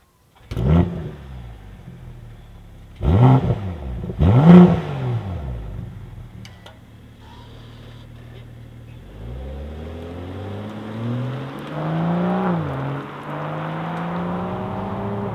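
A BMW M340i Touring pulls away on the road, its engine revving hard in a few sharp bursts before settling into a steady, rising drone as the car gathers speed, close and fairly loud with no talking.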